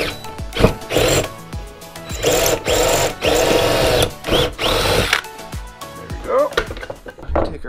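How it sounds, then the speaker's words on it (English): A power drill bores a 17/64-inch hole for a 1/4-inch bolt, its motor whirring in repeated loud bursts with short pauses, close by. "I'm going to drill my hole"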